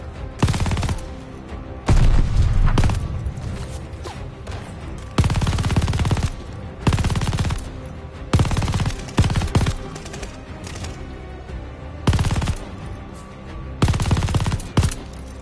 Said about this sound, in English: the Germans truly had the best LMGs